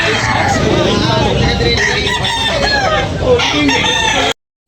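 A White Kelso rooster crows loudly and nearby at a rooster sale in Tabunok, Talisay, while a crowd of people chatters in the background.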